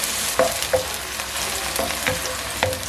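Vegetables and onions frying over low-medium heat in a pan while preparing chicken masala Maggi, a steady close sizzle broken by several brief stirring clatters.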